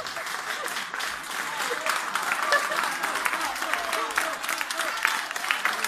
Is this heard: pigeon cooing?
no